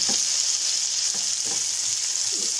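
Food sizzles in a pan during Filipino home cooking of kinamatisang salagubang while it is stirred. A constant hiss runs under soft, repeated stirring knocks.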